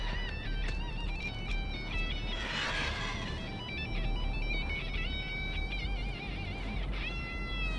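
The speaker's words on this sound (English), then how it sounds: "it even comes with its own metal-themed lullaby" A metal-themed lullaby for the Huntress's Eddie skin in the video game Dead by Daylight plays as a high, chiming melody of sustained notes over a steady low rumble, with no talking.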